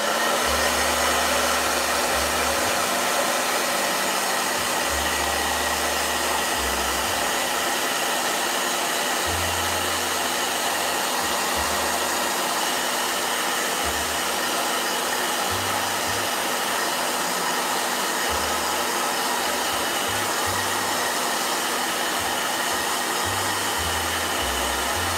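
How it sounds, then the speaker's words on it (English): Steady, unbroken roar of a blow dryer running close by, airy and constant throughout, with nobody speaking. "Blow dryer."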